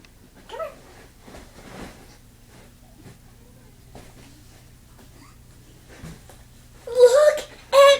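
A shaved house cat gives a couple of loud, close meows at the very end, after a stretch of quiet rustling and faint voices in the room.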